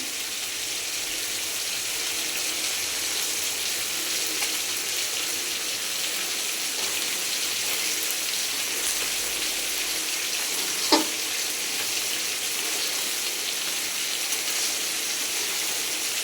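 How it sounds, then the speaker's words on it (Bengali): Water running steadily into a pot of chicken bhuna khichuri, a continuous broadband hiss like a flowing tap or pour lasting the whole stretch, with one brief clink near the end. "এবার আমি দিয়ে দেবো জল, এর মধ্যে দিয়ে দিচ্ছি জল"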